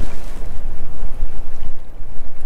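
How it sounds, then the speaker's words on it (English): Wind gusts across a small pond and buffets the microphone in a loud, steady low rumble that swells and dips over a couple of seconds, with no one talking. "I think that was just the wind."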